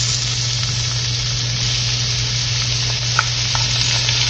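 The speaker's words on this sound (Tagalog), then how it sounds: "igisa natin ang ating onion hanggang sa hindi mag-light brown" Garlic and onion sizzle steadily in a pan, a dense continuous frying hiss with a low hum beneath and a few faint clinks of stirring, no voices.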